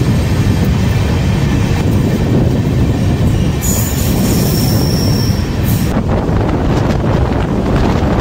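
Kolkata Sairang Express train rolling slowly through Barrackpore station, a loud, constant rumble of wheels on track with heavy wind buffeting and a high metallic squeal partway through.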